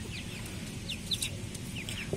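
Soft, high chirps and clucks from several chicks scattered over a steady low background hum, close and fairly quiet.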